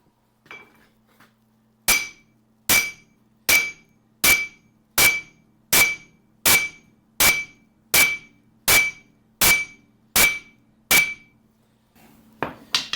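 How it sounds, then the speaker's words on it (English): A hammer strikes the center of a Jeep JK axle to drive it in and seat the wheel bearing race: about fourteen loud, evenly spaced metallic blows with a ringing clink, preceded by faint handling noise. "I'm just going to hit the center of this axle, try to drive the whole thing in so that it'll start to seat that race"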